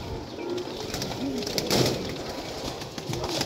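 Old-breed pigeons cooing in a rooftop loft, soft low coos recurring under a steady rustling background, close and moderately loud with no talk.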